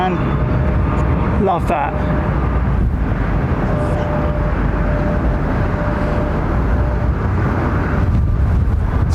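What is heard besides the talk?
airliner jet engines spooling down at London Heathrow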